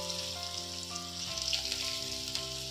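Shallots and curry leaves frying in oil while being stirred, a steady hissing sizzle with a faint tonal hum underneath, close and unbroken, no voices.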